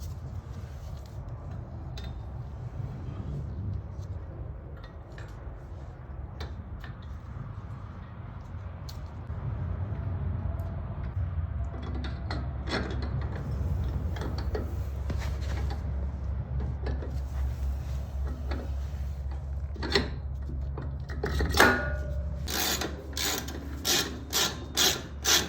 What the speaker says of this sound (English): gotta jack the bike up some more.